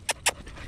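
A dog out on a walk in the rain gives two short, sharp breathy puffs close by, like quick pants or snorts, followed by quiet.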